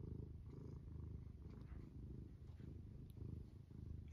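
A gentle cat purrs steadily while being petted, a soft, close, continuous rumble with no other sounds.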